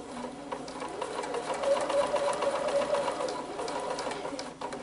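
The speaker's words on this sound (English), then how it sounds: "So I'm going to lower my presser foot and I'm going to stitch directly on that marked line." Steady, close whir of a sewing machine stitching quilt fabric along a marked line, a continuous mechanical hum running for several seconds before stopping near the end.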